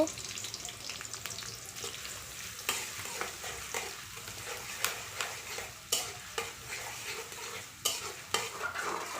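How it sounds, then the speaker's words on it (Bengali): Onions frying lightly in oil in a home kitchen pan, a steady broadband sizzle with repeated sharp scrapes and clinks as a spoon stirs them, no one speaking. "প্রথমত আমি পেঁয়াজটাকে তেলে দিয়ে তারপর একটু পেঁয়াজটাকে হালকা হালকা করে ভেজে নিব"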